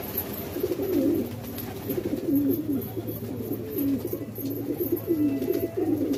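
Pigeons coo steadily and close by, with several birds calling over one another in a continuous rolling murmur; no one speaks.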